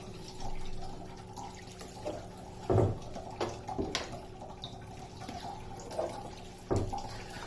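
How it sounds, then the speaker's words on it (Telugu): Water splashes and trickles into a cooking pot in a few short bursts, with quieter dripping sounds in between and no voices. "ఇంట్లో లిటిల్ బిట్ ఆఫ్ వాటర్ పోసుకోవాలి"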